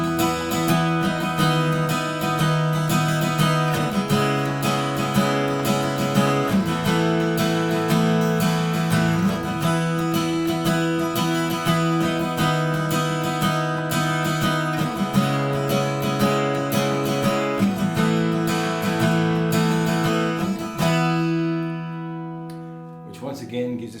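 An open-chord guitar progression with a smooth walking bass line stepping down through the notes plays steadily and close for about twenty seconds, then the final chord rings out and fades.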